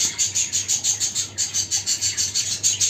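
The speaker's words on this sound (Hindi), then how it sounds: "आज सीधा पंछी है मेरे पास ये।" Khumra breed pigeon at a breeding farm calling in a quick, regular series of about a dozen sharp, bright pulses, close and clear over quiet background hum.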